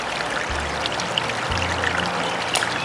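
Water pouring steadily onto garden plants, a continuous splashing hiss from close by with no voices over it.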